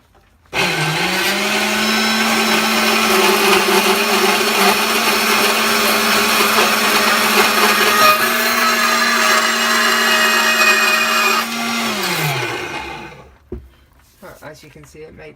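A Femi NG120 XL bandsaw starts up abruptly, runs with a loud, steady motor drone while cutting a workpiece, shifts slightly in tone partway through, then winds down and stops, leaving near silence.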